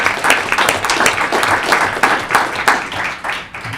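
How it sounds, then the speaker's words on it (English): A board of education meeting audience gives a round of applause, loud, dense clapping from many hands that carries on steadily for a few seconds. "If we could give all of them a round of applause."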